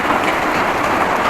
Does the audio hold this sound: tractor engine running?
no